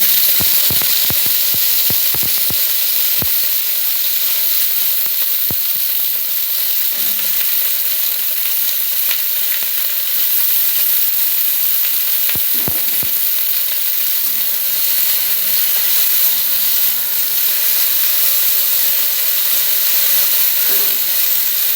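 Okra spattering and sizzling in hot oil, a steady dense frying hiss with sharp pops and crackles clustered early and again midway, close and loud throughout.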